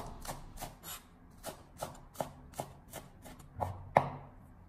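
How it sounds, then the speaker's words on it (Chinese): A knife chopping scallions on a cutting board, about a dozen crisp, evenly spaced chops, close and fairly quiet, the last one sharpest. "将它改刀切成葱花"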